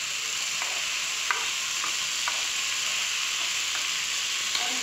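Tomatoes and onions frying in a pan for dal makhani, a steady broad sizzle with a few light scrapes of stirring scattered through, close and continuous with no talking.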